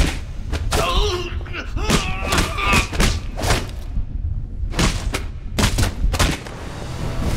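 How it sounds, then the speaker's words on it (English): Rapid gunshots and heavy melee hits from the video game Alpha Protocol come as a dense run of sharp thuds and cracks, loud and close, with bursts clustered irregularly and brief game voices mixed in. "Go ahead and pop him with all these shots here."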